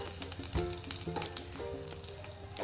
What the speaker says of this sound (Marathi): जिरं जिरा मोहरी घालून घेऊया कढीपत्ता घालून घेऊया हिंग घालूया थोडा